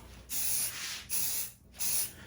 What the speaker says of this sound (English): And the good thing about this type of spray paint, Krylon type paints, this is actually Rust-Oleum